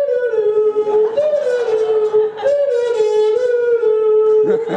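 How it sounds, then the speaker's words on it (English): A buzzy, nasal kazoo hums a wavering melody up close, steady and loud for several seconds with no talking. "Kazoo sounds like this."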